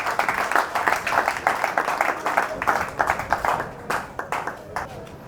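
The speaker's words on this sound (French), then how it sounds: "je vous demande de l'applaudir puisqu'il a fait un bon travail." An audience at a formal ceremony claps in a burst of uneven, moderately loud handclaps that thin out toward the end.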